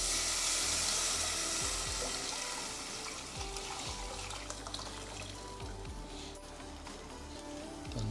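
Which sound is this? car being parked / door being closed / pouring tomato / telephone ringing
pouring tomato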